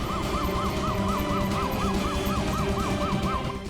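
An ambulance siren wails in a steady, rapid rising-and-falling cycle, loud and close, repeating over a constant rumble of traffic and engine noise, with no talk.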